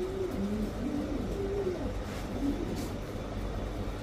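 A racer pigeon coos in soft, rising and falling phrases, repeated several times close by, over a steady background hum at a pigeon sale.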